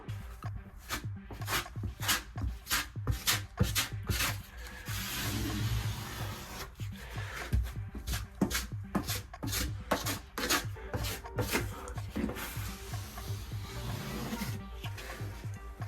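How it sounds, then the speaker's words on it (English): A putty knife spreads a thick coat of drywall joint compound over the seams of a drywall repair around a plumbing access panel, making steady rhythmic scraping and rubbing strokes close up, with no talking. "I'm gonna use the rest of my putty here to give it a nice thick coat on all of the joints"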